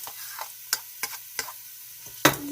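Leftover chicken being stirred in a hot pan for pancit lomi, faint sizzling with a series of sharp spatula scrapes and taps at irregular intervals, the last one louder.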